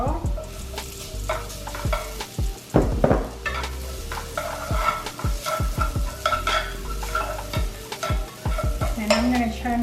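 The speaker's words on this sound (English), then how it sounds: "Now I can mix in the taro with the shallots" Taro pieces stir-fried with shallots over a raised flame: a loud, near sizzle broken by repeated scraping and clacking strokes of a utensil against the pan, with no talking.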